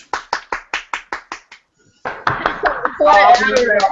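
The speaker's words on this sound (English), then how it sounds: "I'm clapping." A single person claps about eight times at a quick, even pace, close and sharp, then stops; after a short pause, voices and busy clatter take over.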